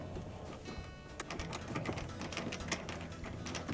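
Quarter-inch screws are driven back into the metal blower cover of a Maytag dryer, a quiet run of ratcheting clicks and whirring with small sharp taps, close by and without speech.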